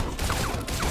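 A firework weapon in a video game fires in a quick series of popping bursts, three or four sharp reports within a second at moderate level, with no talk.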